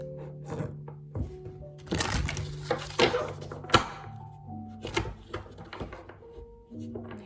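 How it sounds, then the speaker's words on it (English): Tarot cards being shuffled during a reading, a series of soft riffling and thumping bursts, with a louder cluster in the middle, close by and over quiet background hum. "So let me do 4 shuffles for the Emperor."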